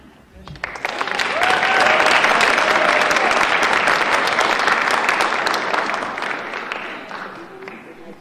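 Applause from an awards-ceremony audience swells quickly and holds steady for several seconds before tapering off, loud and continuous, with a faint voice briefly audible beneath it.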